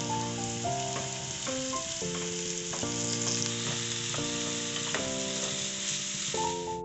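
Tomatoes hit a pan of sautéed onion, ginger, garlic and green chilli for shrimp kadai, making a steady frying sizzle. Prominent background music plays over the cooking sound throughout.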